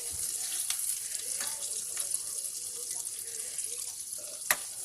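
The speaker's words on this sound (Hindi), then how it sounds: "पालक डालने के बाद में थोड़ा सा हम ये पालक के बॉल में ही पानी डालकर थोड़ा सा पानी डालेंगे" Water poured from a bowl into spinach in a hot pan for palak paneer, a steady wet sizzle and trickle with light clicks and stirring, close and continuous, ending in a sharp tap.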